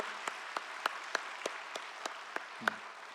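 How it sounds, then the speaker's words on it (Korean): Scattered clapping from a church congregation at a Christmas family worship service, a few sparse hand claps spaced out in an uneven rhythm, fairly close and modest in volume. "우리 함께 박수로 축복하고 격려합니다"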